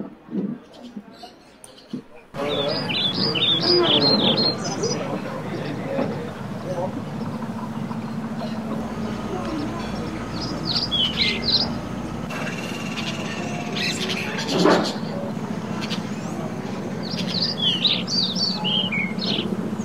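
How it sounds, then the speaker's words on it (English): Various wild birds outside a dining room in Costa Rica give short bursts of high chirps and tweets, mixed with background murmur and a low steady hum. "perhaps more memorable were the variety of birds having their breakfast outside"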